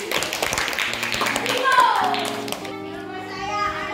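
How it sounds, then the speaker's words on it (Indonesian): Students clapping together in a high school economics class, a short burst of hand claps mixed with children's voices and shouting that gives way to other sounds partway through. "Tepuk tangan semuanya."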